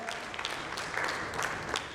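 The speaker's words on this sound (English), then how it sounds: "A big round of applause to Sapna." An audience at a panel discussion on digital customer experience applauds a panel speaker with steady, moderately faint clapping from a medium-sized crowd, with no talk.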